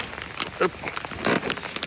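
Rain falling outdoors at a house construction site, a steady patter with a couple of louder splashy bursts, heard under someone speaking.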